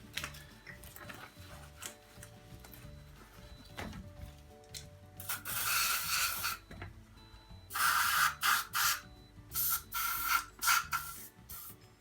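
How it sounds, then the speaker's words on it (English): Surface rust is scrubbed off stroller wheel spokes with WD-40, heard as quiet rubbing and clicking that builds into louder bursts of close, hissing scrubbing strokes near the end. "Get up in between these spokes a bit, clear out any of the surface rust that the WD-40 will be able to remove."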